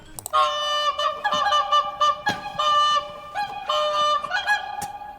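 Loud, close goose-like honking repeats in a rapid series of brassy calls, sounding alone with no talk.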